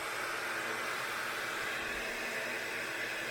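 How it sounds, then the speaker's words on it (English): A Laifen Swift hair dryer runs on turbo at full power, a steady high airy whoosh with no change in pitch, close and constant. "The loudness of this hair dryer is about 59 decibels."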